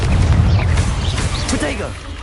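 Confringo fire spell blast in Hogwarts Legacy, a loud, dense booming burst that fills the whole moment, with a player's voice calling out over the explosion.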